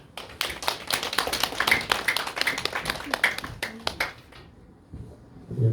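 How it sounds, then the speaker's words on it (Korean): A church congregation at a Sunday morning service claps to welcome the pastor, a quick, fairly close patter of hand claps that fades out near the end before a low rumble. "우리 목사님 나오실 때 박수로 맞이하시겠습니다"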